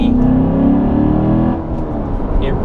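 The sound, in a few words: 2014 Chevrolet Corvette Stingray Z51 performance exhaust growl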